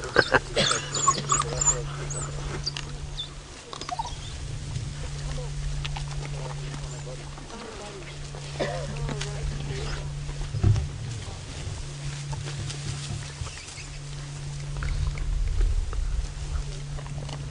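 Endangered African wild dogs feeding on a kill during an evening safari drive, with excited yelps and calls scattered under someone talking and a low steady hum.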